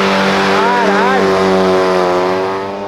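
Chevrolet SS10 lowrider with a naturally aspirated engine revving hard, a loud sustained tone that climbs, wavers and then eases off as the throttle settles, with people's voices mixed in.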